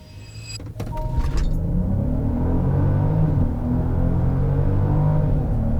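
A 2022 Genesis GV70 pulls away under launch control after a brief clatter, its engine swelling into a loud, sustained acceleration roar heard from inside the cabin, rising steadily with hints of gear changes.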